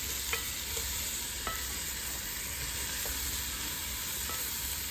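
Food simmers in a pan with a continuous, even hiss and bubbling, and a few faint clicks and taps surface now and then, with no voices.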